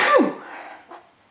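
A single sharp human sneeze bursts out loud and close, then trails off into quiet with a faint breath afterward.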